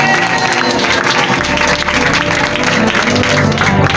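A church congregation claps and cheers together at a French-language service, a steady, loud wash of applause lasting a few seconds with a voice faintly underneath.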